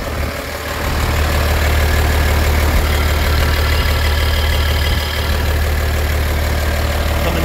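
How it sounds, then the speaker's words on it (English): A Cummins diesel engine in a 2023 International HV607 utility truck idles steadily at close range, a dense low rumble holding even throughout with no voices. "Cummins engine."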